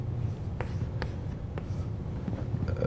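Chalk or marker writing on a board during a university math lecture on algebraic foliations, heard as scattered faint taps and short strokes over a steady room hum.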